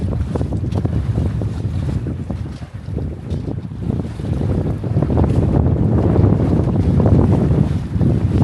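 A wind gust strikes a Catalina 22 sailboat with a reefed mainsail, producing loud, continuous roaring wind buffeting against the microphone that builds stronger toward the end, with water rushing along the hull beneath.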